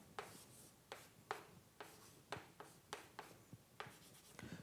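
Chalk or marker strokes as a lecturer writes an equation on a board during a probability lecture, a steady series of sharp tapping, scraping strokes at a close, even pace with no talking.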